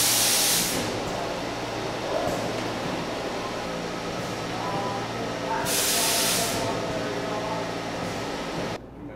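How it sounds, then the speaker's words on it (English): Versa peeler dicer machine cycling as it cuts melon halves into wedges and then chunks, giving a steady mechanical hum with loud pneumatic hissing bursts at the start and midway. "It cycles, takes the melon halves in, cuts them into wedges, and then cuts them into chunks."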